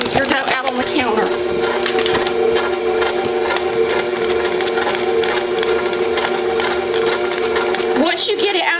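A stand mixer churns bread roll dough with a loud, steady motor whir and a rhythmic thumping of the dough. Faint talk is heard under the machine.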